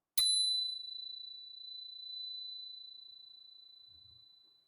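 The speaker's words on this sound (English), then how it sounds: "receive the sound of the bell" A meditation bell is struck once, giving a clear bright ding that rings on as a long, pure, slowly fading tone in an otherwise silent room.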